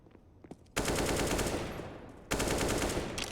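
Rapid automatic gunfire on the Nuke map in a CS:GO esports match, two long sustained bursts of fast shots, loud and close, after a brief quieter lead-in.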